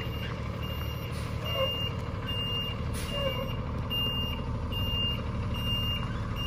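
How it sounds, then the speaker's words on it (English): Moving truck backing up, its reversing alarm beeping in a regular repeating pattern over a steady low engine rumble, with no talk. "Sorry for the loud beeping."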